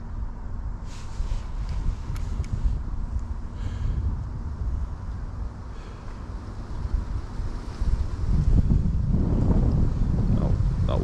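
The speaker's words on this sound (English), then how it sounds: "Oh, I don't like that wind, though." Steady wind buffets the microphone on an open stretch of water during lure fishing for perch, a continuous low rumbling roar that swells louder toward the end.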